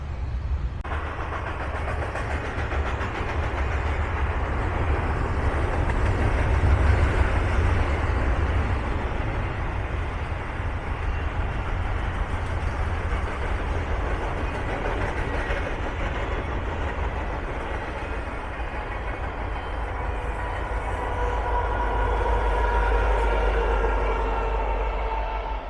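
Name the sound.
train passing, with a military-colored tribute locomotive at the rear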